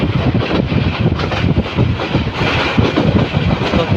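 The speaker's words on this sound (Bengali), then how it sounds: "অনেক গতি তুলেছে ট্রেনটি" A small local Surma Mail train runs at speed with loud, dense rumbling and rapid clickety-clack from the wheels, along with wind buffeting.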